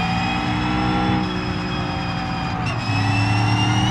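Fast car engine in the BeamNG driving game revving steadily, a sustained tonal whine that climbs in pitch with a brief dip midway, loud and close with no talk.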